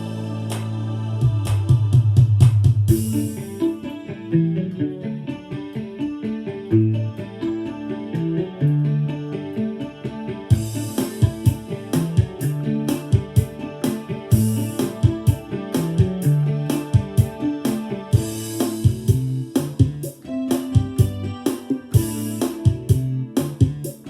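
A bass guitar plays a bouncing, repeating line from a song under drums and other instruments in a full band groove, steady and moderately loud throughout.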